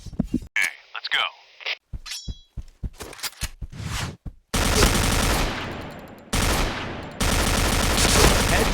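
Gunfire in a headshot-training session of a shooting video game: several sharp short shots, then loud sustained bursts of rapid automatic fire that fill most of the clip, close and dominant.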